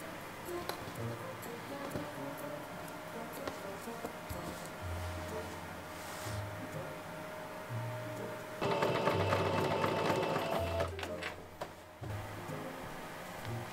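Sewing machine top stitching the waistband of a cosplay apron, a quiet, steady low motor hum broken into several short stitching runs, with a louder, busier burst near the end.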